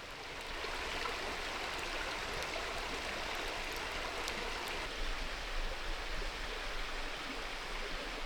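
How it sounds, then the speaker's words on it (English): A woodland stream flows beside a wild campsite in Ireland, a soft continuous rush of water that stays even and fairly faint throughout. "I'm hoping that I'll have a good sleep tonight with the sound of that water beside me"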